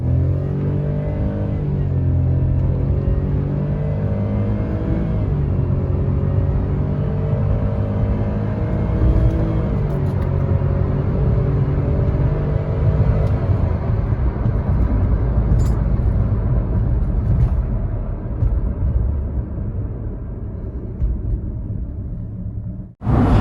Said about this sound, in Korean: 그러면은 가속 한번 해볼게요.